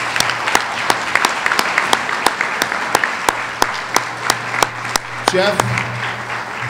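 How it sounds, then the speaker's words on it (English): A banquet crowd at a fall sports dinner applauds warmly for an honoree, steady clapping across the room with sharp individual claps near, a voice briefly speaking over it toward the end. "I really want to give Jeff a nice round of applause"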